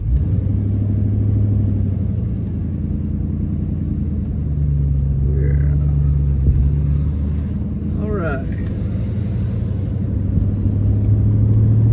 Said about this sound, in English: finally taking the Mustang out